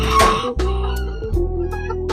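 Farm chickens cluck and a rooster crows nearby, with steady overlapping calls from the flock filling the yard throughout.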